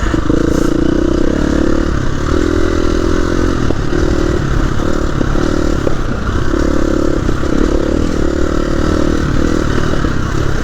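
A KTM 350 EXC-F dirt bike riding through a rut, its engine loud and continuous right up close, with the tone surging and dipping alongside rattling clatter and scraping.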